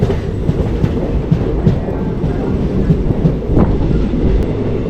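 A train rolls on after leaving Shoranur Junction railway station in the rain, its wheels clacking steadily with a continuous rumble, close and loud, with no talk.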